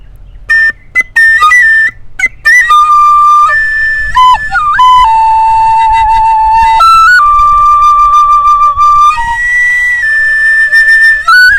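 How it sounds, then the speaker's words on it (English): A tin whistle plays a lively melody alone, with bright sustained notes, quick ornaments and short pauses between phrases. "Tin whistle."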